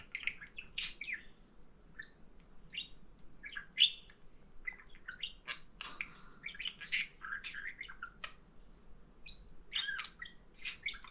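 Pet parrots kept in separate cages chirp and call in a steady stream of short bright tweets and squawks, close by, with no talking over them.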